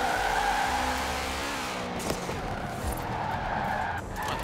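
Ford GT40 MkI in Forza Horizon 4 revving hard under acceleration, a loud continuous engine roar with shifting pitch and a sharp tire squeal midway.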